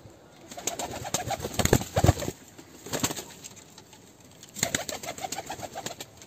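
Double-crested pigeons coo in soft, throaty bursts, close by, with a flutter of wings and quiet pauses between calls.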